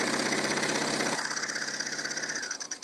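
Domestic sewing machine stitching a seam on a novelty kimono, a fast steady mechanical whir with dense rhythmic needle chatter, close and loud, easing slightly toward the end.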